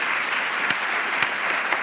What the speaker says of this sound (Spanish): vamos a darle un aplauso a nuestra profesora Ana y gracias